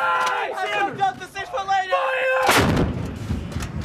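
An M777 howitzer fires during U.S. Marine training, one huge close boom with a long rumbling tail, after several seconds of shouted crew commands.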